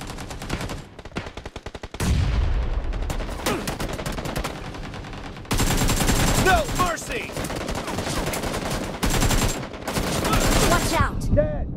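Rapid bursts of shotgun and automatic gunfire in a PUBG Mobile team deathmatch, loud and close, in tight repeated volleys with brief pauses, under game announcer calls and a voice talking.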